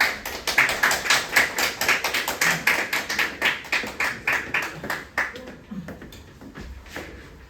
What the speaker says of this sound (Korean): 박수를 많이 해주세요.